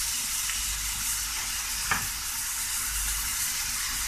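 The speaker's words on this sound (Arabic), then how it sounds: "خلوهم يتقلاو شوية مع بعض" Chicken pieces and bell peppers fry together in a pan, giving a steady, close hiss of sizzling oil with a brief utensil stir near the middle and no voices.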